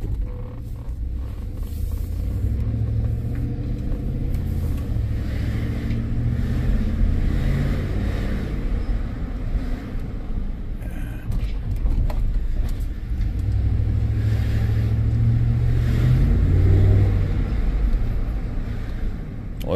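A warmed-up 2014 GMC Yukon Denali with a 6.2L V8 idles in a smooth, steady low rumble, with faint mechanical creaks over the constant hum.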